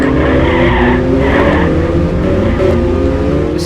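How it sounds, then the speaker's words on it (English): Tyres squeal as a small car skids into a corner in the Mini Car Racing video game, a loud sustained screech over a steady engine drone, alone without talk. "Just skid into the corner there."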